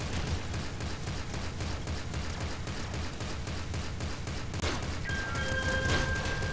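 Rapid, dense gunfire from a beam shotgun in the video game Nuclear Throne, a continuous burst of blasts that holds loud throughout, with a brief electronic whine near the end and no talking.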